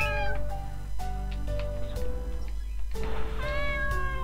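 A video-game cat meows repeatedly in short, clear, tonal calls over a low steady game background. No voices are heard.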